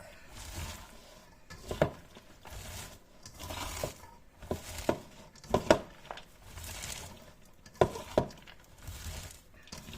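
Salted shredded cabbage is mixed by hand in a bowl, giving soft rustling, crunching squeezes in irregular bursts with a few sharper clinks against the container, close and fairly quiet.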